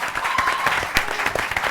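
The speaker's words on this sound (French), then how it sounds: "on s'applaudit." Applause for a school team at a Senegalese quiz-style competition, a dense wash of clapping with a few sharper claps, steady and fairly close through the short stretch.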